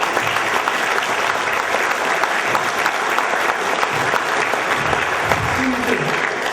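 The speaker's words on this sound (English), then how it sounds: "She deserves the applause." Steady audience applause fills the room after an Auschwitz-Birkenau survivor's remarks about his wife, a dense, even wash of clapping holding for several seconds with a brief voice breaking through near the end.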